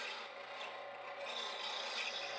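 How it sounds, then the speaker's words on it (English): A roughing gouge cutting a wooden mallet handle on a lathe gives a continuous close, rasping scrape with a steady motor hum underneath, faint overall and without voices. "I'm relying pretty much on my roughing gouge to do most of the work for me."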